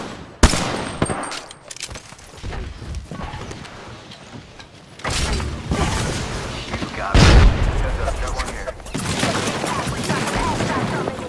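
Rapid automatic gunfire in the online shooter Devotion, loud and sustained bursts with booming impacts and shifting intensity, under a busy game soundscape.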